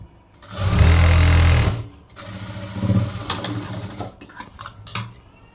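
A sewing machine stitches a plain raglan blouse, running in a loud, steady burst for about a second, then continuing in lighter, uneven whirring with mechanical clicks and rattles.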